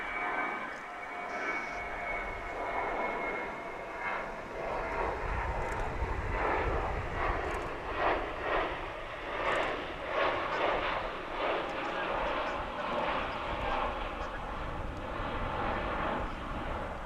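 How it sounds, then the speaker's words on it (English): A Spirit Airlines Airbus A321 jet flies past at a busy airport, its engine roar swelling and holding steady for many seconds at moderate distance, with voices talking over it. "that was Spirit Airlines Flight 2701 on its way to Las Vegas, an A321."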